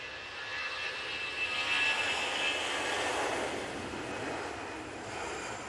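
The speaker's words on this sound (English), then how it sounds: "A320 CEO." An Airbus A320 CEO jet airliner at Manchester Airport makes a steady, broad roar of engine noise with a whining high tone, sustained and fairly distant throughout with no voices.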